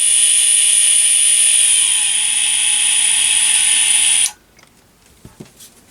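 A 220V 72W variable-speed micro electric hand drill/grinder whines at its lowest speed with a steady high-pitched buzz, then cuts off abruptly, leaving a few faint clicks and handling sounds.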